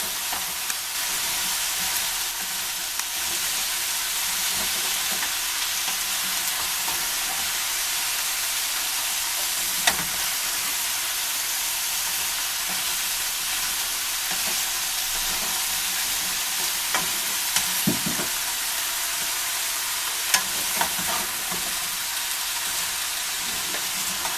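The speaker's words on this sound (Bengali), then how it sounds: "ভালো করে মাখাবো আর তেলের সাথে একটু মিশে যায়" Chinese-style mixed vegetables being stirred in hot oil, a steady broadband sizzle and hiss running throughout with occasional scrapes of the spatula, close and continuous with no talking.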